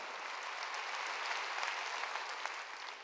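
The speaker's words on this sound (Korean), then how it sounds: "박수로 하나님께 영광을" A church congregation claps steadily during a sermon, a dense continuous wash of applause at a moderate distance with no voices over it.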